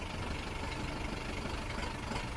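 A Lovol 504 tractor with forced hydraulic hitch idles with its compressor off, a soft, steady engine hum running evenly and without change, fairly quiet and alone.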